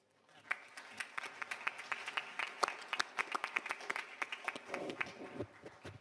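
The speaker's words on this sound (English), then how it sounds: "I think we should start with give them a big applause." Audience applauding a panel at an annual history meeting on European unity, dense clapping from a moderately sized crowd that swells quickly and then tapers near the end.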